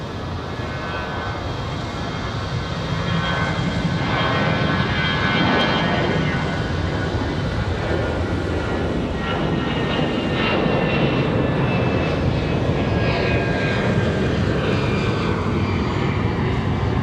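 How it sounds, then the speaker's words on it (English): Airbus A320 jet taking off from Raleigh Durham airport, a loud sustained engine roar that swells and shifts in pitch as it climbs past, with no talking. "For the A320. Good looking departure too, looks like."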